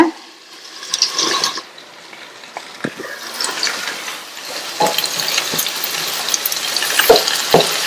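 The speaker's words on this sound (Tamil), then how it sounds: "3 நிமிஷத்துக்கு இந்த பட்டாணி, வெங்காயம், பச்சை மிளகாய் எல்லாமே வதங்கிட்டு இருக்கட்டும்" Peas, onion and green chilli sautéing in a pan, low sizzling with occasional sharp spatula clinks and a rising hiss of frying, close up and with no talk.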